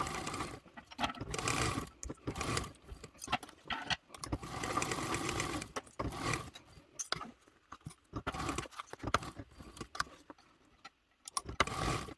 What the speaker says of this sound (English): So we're going to be sewing this with a 3/8 seam allowance, making sure we are leaving a gap to help turn it.